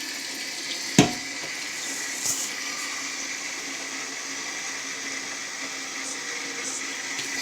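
Water runs from a kitchen sink tap in a steady close stream, with a sharp knock near the start and a smaller clunk shortly after.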